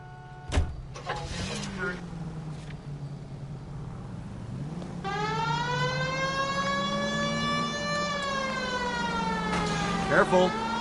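Police car siren wailing from about the five-second mark, loud and steady with rising and falling harmonics, after car sounds and brief talk in the opening seconds.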